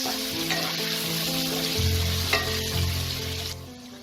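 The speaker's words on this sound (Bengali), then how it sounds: "আমি এখানে হাফ টিস্পুন হলুদ গুঁড়ো আর হাফ টিস্পুন নুন দিয়ে এটাকে আমি ভালো করে লাল করে ফ্রাই করে নেব" Potatoes sizzle and crackle in a pan of oil with turmeric and salt, a steady dense frying hiss with scraping stirs throughout, close and fairly loud.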